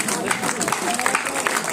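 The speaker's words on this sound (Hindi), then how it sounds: "तालियां कमजोर है और भाई" Audience clapping at a kavi sammelan poetry gathering in Alwar, a busy patter of hands with scattered sharper claps, moderately loud, mixed with background voices and babble.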